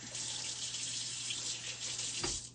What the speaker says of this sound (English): I think I'll rinse this off to get most of that off of the outside of that.